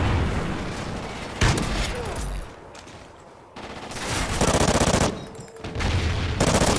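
Video game gunfire in short bursts from several weapons, loud and close, with brief pauses between volleys and a quieter stretch in the middle; no talking over it.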